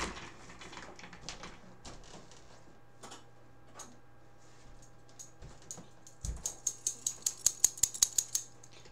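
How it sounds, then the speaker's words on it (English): Scattered clicks give way to a quick run of about ten sharp, evenly spaced snips near the end, close and crisp. "Here go my scissors."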